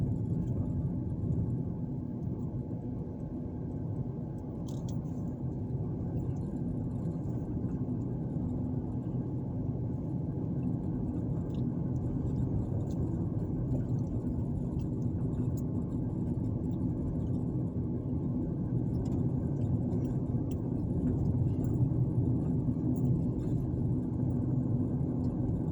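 A car drives down a street in Montgomery, Alabama, heard as a steady low rumble of engine and road noise from inside, unbroken and without talk.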